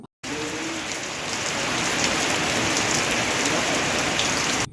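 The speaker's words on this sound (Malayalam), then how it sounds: "പുറത്ത് നല്ല മഴയാണ്" Heavy rain pours outside a house in Kerala in the morning, a dense, loud, continuous roar of falling water that starts abruptly and holds steady throughout.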